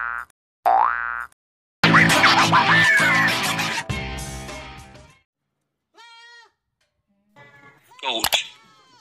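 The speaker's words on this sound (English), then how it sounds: "Goat. Nanny goat." A goat bleats in short wavering calls, loud and close, in a clip otherwise marked by cartoon boing effects and bursts of bright sound, with quieter bleats following after pauses.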